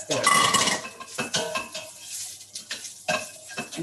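Crumbled firm tofu stirred in hot olive oil in a pan, with scraping and clinking of a utensil against the cookware over a steady sizzle, in uneven bursts of stirring close by.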